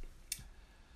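A single sharp computer mouse click during 3D modeling work in Fusion 360, close and crisp against a quiet room background.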